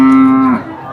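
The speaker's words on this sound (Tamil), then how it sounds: "இந்த ஒரு மாடு கொண்டு வந்திருக்கீங்க" A cow at the Poigai cattle market in Vellore district gives one long, loud, steady moo that fades out halfway through, leaving quieter market background noise.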